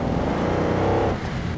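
A Land Rover Defender engine in BeamNG.drive running in high gear, a steady, loud, droning rumble that holds level throughout with a slight dip near the end.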